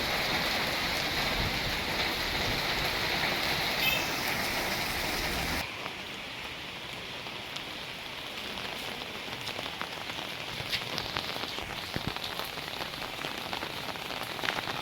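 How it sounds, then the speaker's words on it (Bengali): Heavy rain pours down in Paltan Bazaar market in Guwahati, Assam, a dense steady roar of drops drumming on roofs and surfaces. The rush drops a little in loudness partway through, then continues. "কী পরিমাণ বৃষ্টি নেমেছে দেখো"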